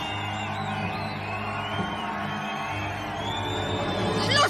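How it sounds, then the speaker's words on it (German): An audience cheers and whoops in a continuous crowd roar, steady and fairly distant, swelling slightly toward the end. "es klingt, als würde Publikum anfeuern, den Amerikaner"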